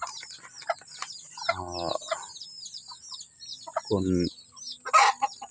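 Chickens cluck and a rooster gives two short harsh calls amid steady bird chirping and insect buzz outdoors, fairly close.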